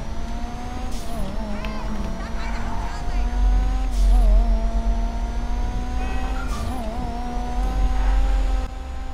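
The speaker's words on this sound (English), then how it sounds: "that was just a quick thing of sound for you to actually hear what the vehicle sounds like" Lampadati Furore GT in a video game, a steady loud engine drone with gear shifts and tire squeal repeating across the run, with speech at moments.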